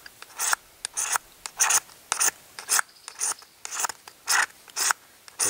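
A knife blade shaving wood into a small pile of shavings for a fire, heard as a close, steady series of dry rasping strokes, about a dozen in quick rhythm, pressed hard, with no talking.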